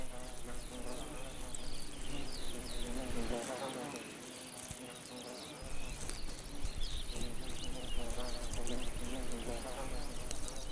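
Hoverflies buzzing as they feed in an alpine setting, a dense, steady insect drone of many wings close by, with a faint brief lull midway.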